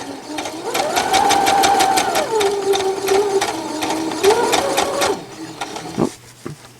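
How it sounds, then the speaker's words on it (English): A sewing machine runs a straight stay stitch through a felt gift bag, a steady rapid mechanical whirr with regular needle ticks for about five seconds, close and loud, then stops with a couple of faint clicks. "I am just going to straight stitch it. Let's do a stay stitch."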